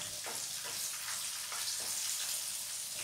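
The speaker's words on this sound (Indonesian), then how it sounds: "Sekarang aku mulai goreng tahunya ya." Tofu fries in hot oil until dry, giving a constant bright sizzle broken by repeated crackling bursts as moisture spits, close and steady throughout.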